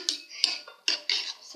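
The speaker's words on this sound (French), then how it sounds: "Après, on mélange pour que ce soit un petit peu liquide. Avec la cuillère si vous voulez." A spoon clinks and scrapes against a bowl while mixing yogurt cake batter, four or five short bright taps in quick succession, close and without talk.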